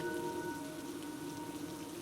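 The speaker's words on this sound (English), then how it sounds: "The rain is getting bad." Heavy rain pours steadily onto hard surfaces as a dense, even hiss with no voices, moderately loud and constant throughout.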